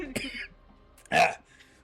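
A person coughs sharply after swallowing down the wrong pipe, a short throaty burst early on and then a louder cough about a second later, close and clear against a quiet room.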